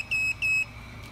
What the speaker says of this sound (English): I think that meant bound, beep, beep, beep, right?